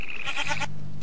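A goat in the Technic modpack game gives one short, loud bleat up close, wavering for about half a second and then breaking off, followed by a steady low hum.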